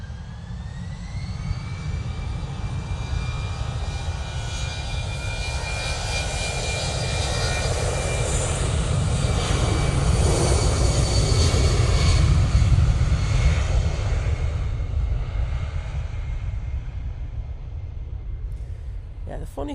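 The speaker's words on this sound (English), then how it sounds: "Right, Finnair A319 going back to Helsinki. All lined up, ready to go." An Airbus A319 airliner at Manchester Airport spools up its jet engines on the runway, a loud continuous roar that swells toward the middle and eases off, heard at a distance.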